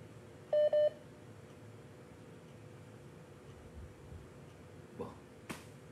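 A telephone during a call gives a quick pair of loud electronic beeps near the start, then a quiet hiss of the open line with a few soft clicks and taps.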